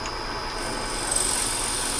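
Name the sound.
drill bit boring into wood on a lathe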